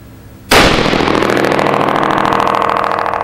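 A .308 rifle fired with a bare muzzle and no brake, one loud, sharp blast about half a second in, followed by a long, dense roar that stays loud to the end.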